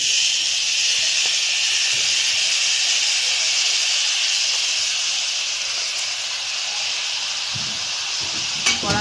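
A coconut, jaggery and sugar mixture goes into a hot pan for dudh puli pitha filling, giving a loud, steady steam-like hiss that holds evenly throughout with no talk.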